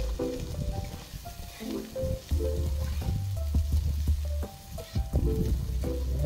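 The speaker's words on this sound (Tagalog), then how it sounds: "Sunod, ilalagay na natin yung ating na-fry na pork." Pork and onions frying together in a pan for chop suey, a steady close sizzle with scraping stirring strokes throughout and a faint tonal background underneath.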